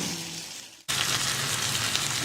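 Chicken and capsicum with ketchup and chicken powder frying in a pan: steady crackling sizzle, briefly dipping before a sudden louder, dense sizzle that continues to the end.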